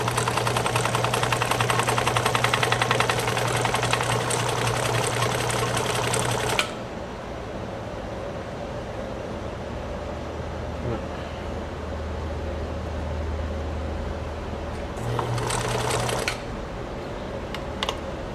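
A Necchi Supernova sewing machine stitches in a fast, steady whir with rapid needle clatter for about seven seconds, stops, then runs again in a short burst near the end, with a low hum continuing through the pause.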